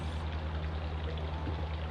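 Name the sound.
cake batter being poured into a round cake pan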